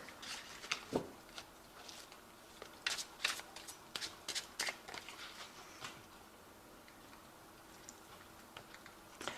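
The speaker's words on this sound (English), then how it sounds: "I have shuffled this deck" Tarot cards are shuffled and riffled nearby in a series of quick, papery flicks and taps, some clustered, others spaced apart against a quiet room.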